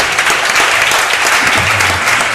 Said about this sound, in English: Give yourself an applause for who you are